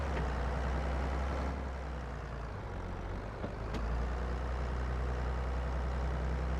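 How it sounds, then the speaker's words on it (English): Farming Simulator 22 tractor drones steadily with a loud gearbox whine over low engine rumble, a continuous mechanical hum that holds fairly even throughout, with no speech. "the gearbox on this thing is sounding pretty loud"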